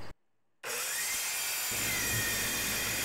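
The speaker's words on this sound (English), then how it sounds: "I'm just taking it really easy through this thick steel. I don't want to overheat the saw." An Evolution EVOSAW180HD metal-cutting circular saw bites slowly through 3/8-inch thick steel plate, a loud continuous grinding whine after a brief silent gap.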